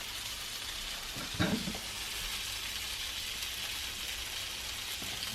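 A waffle maker cooking batter gives off a steady, even sizzle throughout, broken by one brief soft clack partway in.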